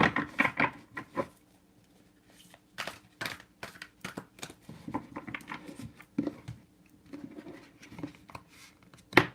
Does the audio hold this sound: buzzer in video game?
no